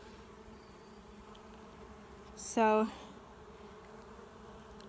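A swarm of honey bees that has just settled into a new home gives off a brief, loud buzzing burst of about half a second, rising above a steady low hum of outdoor background noise. A voice speaks briefly.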